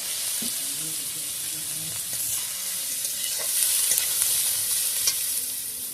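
Chopped onion fries in hot oil in a village kitchen, a steady bright sizzle running throughout while a spatula scrapes and stirs it now and then.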